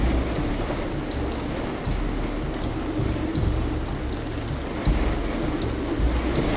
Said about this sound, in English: I really want the rain to stop, because I have to scream to be heard